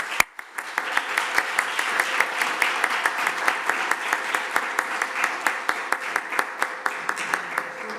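An audience applauds after a debate at a conference on Europe, steady moderate clapping with distinct individual claps standing out, fairly close and continuous throughout.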